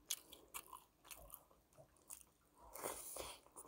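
Close-up crunching as someone bites and chews crispy fried squid, a series of sharp crackly bites and munches, quiet and near.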